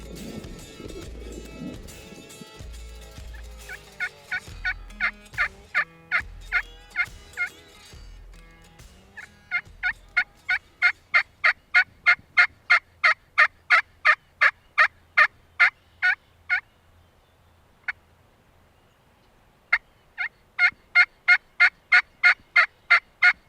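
Wild turkey gobbling again and again in answer to a hunter's calls at Riverbend Whitetails, with loud, sharp gobbles in steady bursts and brief pauses between them. Some low rustling comes at the start, and no one speaks.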